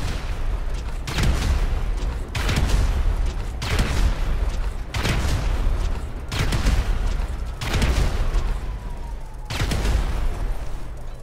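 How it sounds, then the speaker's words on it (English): A trailer blown up in GTA 5 Online plays as a run of heavy game explosions, six loud booming bursts at roughly two-second intervals, each with a rumbling low-end tail and crackle, with no talk over them. "So he's just going to go ahead and blow up the trailer"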